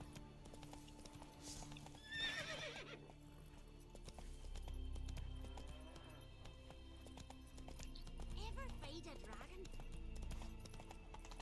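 Horse hooves clip-clop and a whinny rings out in The Witcher video game, with repeated footfalls rising and fading over several seconds under low background music and a hum.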